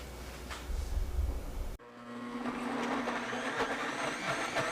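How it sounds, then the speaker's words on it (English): A kitchen blender whirs steadily as it blends palakbet ingredients, starting abruptly after a brief pause and running loud and continuous. "the blender will not have a difficulty to blend the ingredients"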